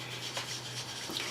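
A soft, steady rubbing of ink onto paper in a circular motion while making a card, a close, continuous dry scuffing with gentle swells over a faint low hum.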